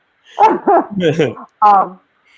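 A dog barks a few times in short, close, loud bursts, the last bark sharper and higher, with brief silences between.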